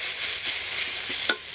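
Potatoes and taro fry in a pan with a steady bright sizzle. A single soft clatter of stirring comes near the end.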